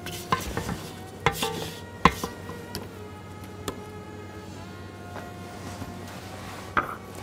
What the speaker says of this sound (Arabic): انزل اي حاجه في الجنب علشان تختلط مع الباقي كويس